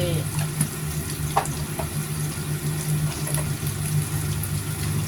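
Saba fish being stir-fried with oyster sauce, sugar and soy sauce in a pan, a steady close sizzle with faint scraping and water-like bubbling throughout, under a low background hum.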